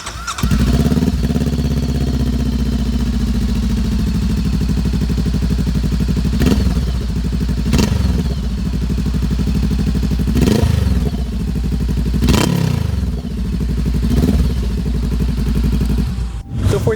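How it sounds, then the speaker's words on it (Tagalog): A Voge 500R motorcycle with the cat deleted and an Orion open exhaust idles close up with a loud, deep, throbbing rumble, and the rider blips the throttle into several sharp revs that rise and fall. "here's the sound of this bike na naka-cut delete with Orion exhaust"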